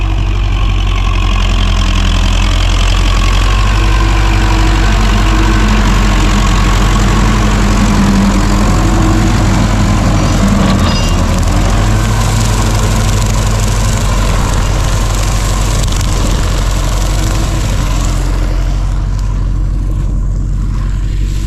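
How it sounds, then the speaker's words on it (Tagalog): A grass cutter's small motor runs loud and steady at a constant idle, a continuous droning hum that stays close and unbroken for the whole stretch. "Grass cutter na makina."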